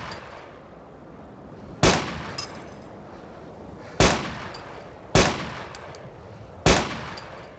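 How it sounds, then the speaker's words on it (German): Four sharp gunshots crack out in the survival game DayZ on the snowy Namalsk map, spaced irregularly a second or two apart, each loud and close with a short ringing tail over a low ambient hiss. "Alter, wird hart geschossen."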